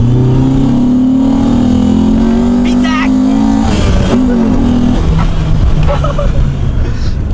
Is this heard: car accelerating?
yes